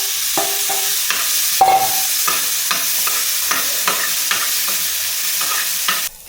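Prawns frying in a pan, a steady close sizzle with repeated scraping stir strokes at a regular pace, loud and without talk.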